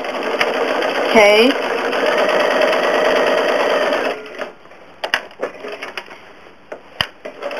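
A home sewing machine runs in a steady, loud motor whir as it stitches a quilt, then stops for scattered clicks and handling noises near the end, with a voice speaking briefly.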